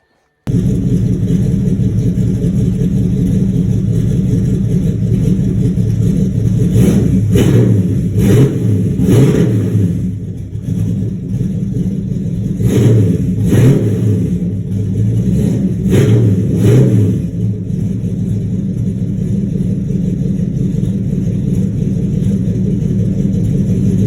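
A car engine rumbles loudly through a deep double X-pipe exhaust, revving up several times in bursts between steady idling.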